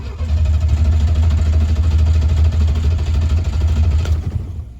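Car engine turned over on the starter for about five seconds during a battery voltage test, giving a loud, steady low-pitched churning drone close by, with no voices.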